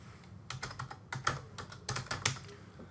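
Rapid bursts of keystrokes on a computer keyboard while a comment is typed into grading software, clustered in short irregular runs of clicks, close and fairly quiet, with no voices.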